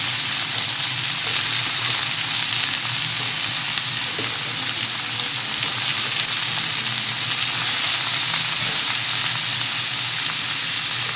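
Eggplant and tilapia frying in a pan for a Thai basil stir-fry, a steady, dense sizzle and hiss that runs unbroken throughout at an even level with no talk.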